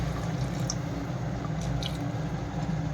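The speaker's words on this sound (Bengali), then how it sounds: "এই যে এখন এবার জল দিয়ে দিচ্ছি" Water pours into a pan of simmering aloo matar curry of potatoes and peas, a steady close liquid rush and bubbling with small drips and splashes throughout, no talk over it.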